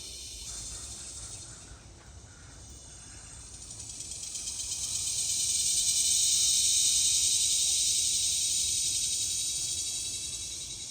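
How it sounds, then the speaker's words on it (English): A dense, shrill buzzing chorus of cicadas near a rice field swells and fades, rising to a loud peak midway and continuing steadily without any talking. "So I'd like to find one of these cicadas."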